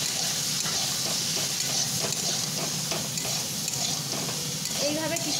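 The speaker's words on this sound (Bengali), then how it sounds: "এইভাবে কিছুক্ষণ নাড়াচাড়া করতে করতে খুব সুন্দরভাবে কষানো হবে" Mixed vegetables, around twelve or thirteen kinds, being stirred and sautéed in a pan, giving a steady close sizzle and hiss with frequent scraping stirs throughout.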